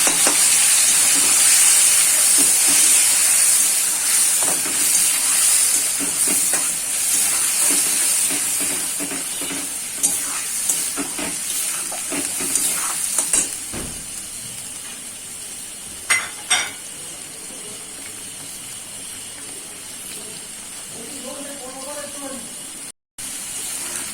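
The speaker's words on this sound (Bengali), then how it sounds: "দেখুন পেঁয়াজটা আমার ভাজা হয়ে গেছে, হালকা লালচে ভাব এসে গেছে।" Ground onion paste fries in a pan with whole spices, a steady close sizzle and hiss with scraping stirs that fades down into a quieter simmer with occasional clinks.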